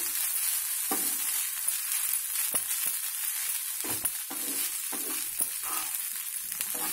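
Potato and egg mixture being stirred in a pan for a simple potato breakfast, with soft scraping strokes and a faint sizzle over steady background noise, no talking.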